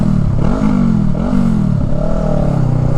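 Honda Rebel motorcycle fitted with a Shorty GP exhaust, heard while riding: a steady, loud low engine drone with slight pitch rises as the throttle changes, plus constant wind and road noise, no talk.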